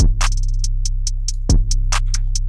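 Programmed in FL Studio, a clap is followed by a rapid hi-hat roll whose hits fade in velocity, then regular hats resume over a deep repeating bass pulse. The sound is crisp and electronic, with no voices.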